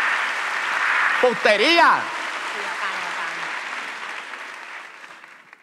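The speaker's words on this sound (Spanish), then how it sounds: "Oigan, fuerte el aplauso" Studio audience at a live talk show applauds a guest, Mabel Cartagena: sustained clapping under an excited voice exclaiming loudly near the start, the applause gradually fading away.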